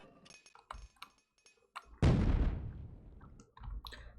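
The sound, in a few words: grenade explosion effect in the video game Unreal alpha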